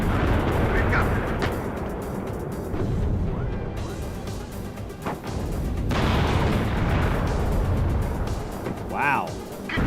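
Artillery fire and explosions in the Cold War strategy game WARNO, NATO against USSR: heavy booming bursts and rumbling blasts rise and fall across the clip, mixed with game voice chatter.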